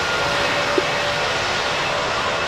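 A fixed-wing airplane flies overhead while planespotters watch, a steady broadband engine roar holding constant throughout, fairly loud and unbroken with no talk.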